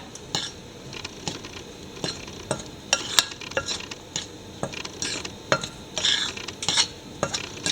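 Dry banana bread ingredients with ground cinnamon being mixed in a bowl, giving a steady run of short, close scraping and tapping strokes from the utensil against the bowl, repeated throughout with no voices.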